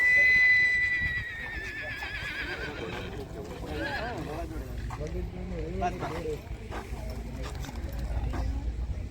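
A horse gives a loud whinny at the start, followed by hoof sounds and the murmur of people talking nearby, at an endurance riding vet check in Kutch district.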